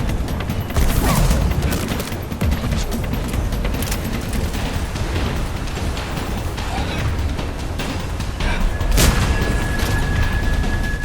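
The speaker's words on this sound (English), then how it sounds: "Who's shooting at me?" Sustained gunfire and heavy booms in the video game Mass Effect 3, a dense continuous barrage of shots with a louder blast near the end, mixed with battle noise.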